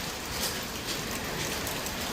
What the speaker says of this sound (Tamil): நல்ல வேகமாக மழை பெய்கிற மாதிரி தானே தெரியுது.